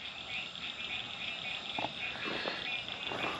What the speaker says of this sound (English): Can y'all hear those frogs?